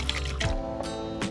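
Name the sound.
water poured into pot for tilapia sinigang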